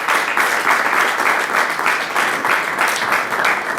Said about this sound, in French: On l'accueille par des applaudissements, s'il vous plaît.